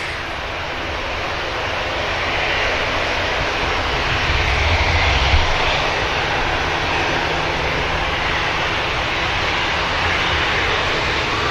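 An EasyJet Airbus A320neo airliner passes at Manchester Airport, its engines producing a steady, broad roar that holds at a constant loud level throughout, with no voices.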